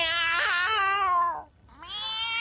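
A cat gives an unusual, distinctive meow: a long, loud, wavering call, a brief pause, then a second drawn-out cry, close and clear with no one talking.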